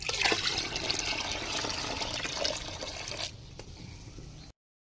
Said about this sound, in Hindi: अब इसमें 4 ग्लास पानी ऐड करेंगे।